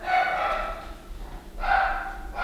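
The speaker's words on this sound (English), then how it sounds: "Excuse the pups. They're just barking in agreement." Two bursts of dog barking sound a short distance away, the second after a brief pause, with another bark starting right at the end.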